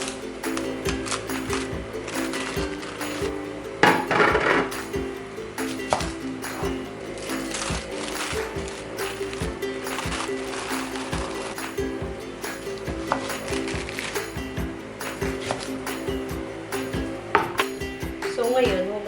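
A knife cutting through napa cabbage (pechay) on a board while making kimchi, with repeated short chopping taps and crisp slicing over a steady background hum.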